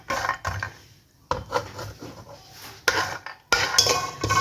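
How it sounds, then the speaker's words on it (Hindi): Almonds being roasted in desi ghee, stirred in a pan with scraping and clinking utensil strokes in short bursts separated by quiet pauses, close and moderately loud. "मैं इसको देसी घी में भून रही हूँ।"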